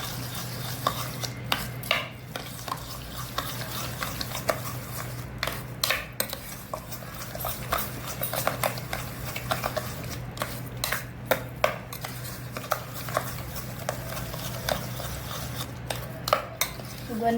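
Jamun pulp being stirred with sugar in a bowl, with repeated clinks and scrapes of a spoon against the dish over a low steady background hum, continuing without talk.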